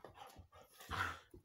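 A pet dog at a park pants and gives a brief whimpering whine, faint and close, with breathy bursts and a short louder cry near the end.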